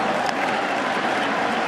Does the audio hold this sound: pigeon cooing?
no